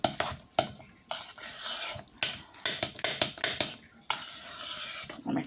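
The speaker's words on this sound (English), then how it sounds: "I'm going to mix it with a spoon" A spoon stirs and scrapes through a thick vegetarian strawberry mousse in a bowl, giving a run of close, uneven rasping strokes broken by short pauses, with nobody speaking.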